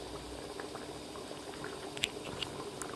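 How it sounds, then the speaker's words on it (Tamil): Mutton curry with potatoes bubbles in a pot on a South Indian home stove, a soft steady simmer with faint scattered pops and plops, close but quiet. "பாருங்கள் எப்படி கொதிக்குதுன்னு"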